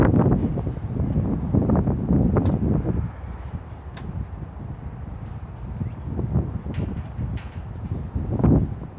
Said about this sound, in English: That's a bit windy.